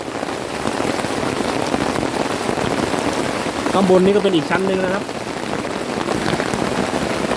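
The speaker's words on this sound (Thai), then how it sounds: "มาสำรวจดูว่า เต็นท์ของเรานั้นจะกันฝนได้ไหม" Dense, steady patter of rain drumming on a tent close by at night in the jungle, with a voice briefly speaking over it.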